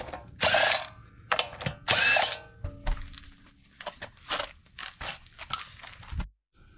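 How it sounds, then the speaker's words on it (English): A ratchet loosens the lug nuts on a 1996 third-generation Toyota 4Runner Limited 4x4 wheel. Short bursts of rapid clicking alternate with metallic thunks and scrapes, close up in a quiet space. "Remove the lug nuts."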